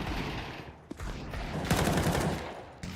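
Gunfire in a Counter-Strike match, with rapid bursts of shots and a couple of sharp single cracks, fairly faint under a busy in-game background.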